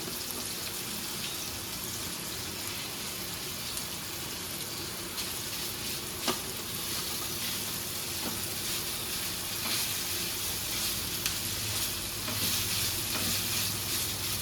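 Grated paneer fries in a pan with a continuous dense sizzle, loud and close, with faint stirring clinks now and then and no one talking.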